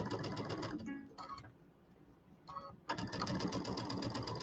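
A home sewing machine stitches fabric pieces for a Kimberbell quilt table topper, a close rapid mechanical whirr in bursts that pause and restart, its foot controller reportedly going bad.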